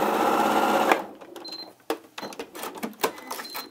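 Domestic sewing machine stitching the handle of a quilt, a loud steady rapid whir for about a second, then it stops, leaving softer scattered clicks and handling noises close by.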